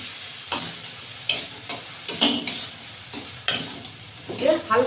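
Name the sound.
paneer being stir-fried in spinach masala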